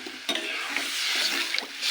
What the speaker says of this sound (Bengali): আমি এবার এর মধ্যে জল দিয়ে দেবো, জলটা বেশ অনেকটা দিতে হবে, যাতে আলু সেদ্ধ হয়েও জল থাকে।